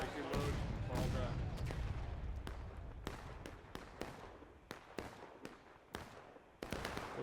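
Scattered musket shots crack one after another in a Civil War video game battle, a dense rumbling burst at first thinning into separate sharp reports near and far, with voices shouting over the opening.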